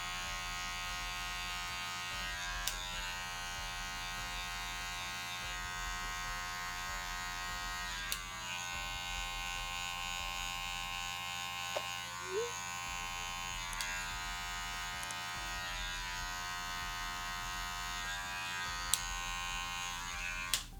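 Electric hair clippers with a 1 guard tapering sideburns, a close, steady high-pitched motor buzz running continuously, broken by a few sharp clicks and slight changes in tone as the blade moves through hair.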